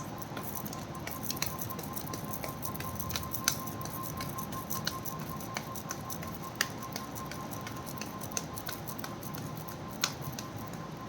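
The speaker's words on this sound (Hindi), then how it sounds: "this is my last shuffle" Tarot cards are shuffled close by, giving a faint, steady papery patter dotted with soft flicks and taps.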